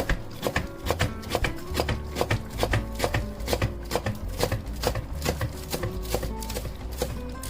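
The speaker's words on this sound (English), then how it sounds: "I like to take my spinach, bunch them all up together like this, and then I like to chop them like" A knife chops bunched-up spinach on a cutting board, a fast, steady run of sharp, close thuds that continues throughout.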